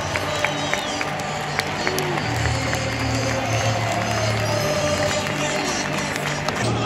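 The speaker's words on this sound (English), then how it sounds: "That's why you hear the cheering from Napoli fans." Napoli fans in a Champions League stadium cheer as opposing goalkeepers warm up, a broad continuous crowd roar with scattered shouts and whistles, steady and moderately loud throughout.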